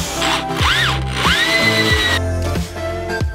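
A power drill drives bolts to fix legs onto a driftwood table. The motor whines close and loud in repeated short bursts, its pitch rising and dropping with each trigger pull, and no one talks.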